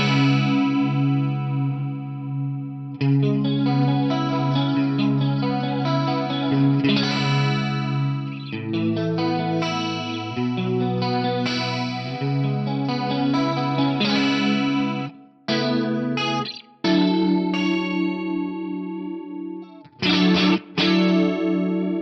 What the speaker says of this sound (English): the left side or the left channel delay is being modulated up and the right channel delay is being modulated down